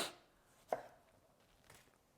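A knife cuts tomatoes into big pieces for a slow-cooked whole chicken dish: a few sparse, crisp chops on a cutting board, fairly faint, with no talking.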